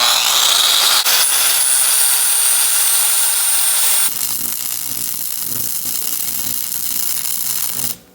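A power tool cuts into a racing mower's headlight mount, starting loud and harsh with a high whine for about four seconds, then dropping to a lower, steadier grinding until it stops near the end.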